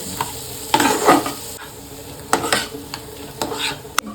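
Stirring in a hot pan with black pepper powder and sugar, a few scraping strokes with a faint sizzle underneath, close and moderately loud.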